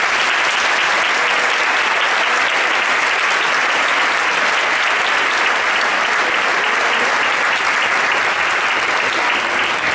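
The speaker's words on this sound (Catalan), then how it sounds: "Un fort aplaudiment!" Loud, dense audience applause for a children's choir at a concert, a steady wall of many hands clapping that continues unbroken for ten seconds.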